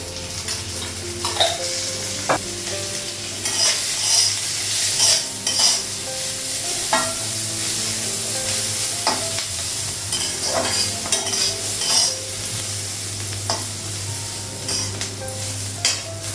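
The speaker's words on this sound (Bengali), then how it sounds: "তো করলাটা ভাজা হয়ে গেছে" Bitter gourd frying in a pan with salt and oil, a steady sizzle under repeated scraping and clinking strokes of a stirring spoon, close and fairly loud, with no talk.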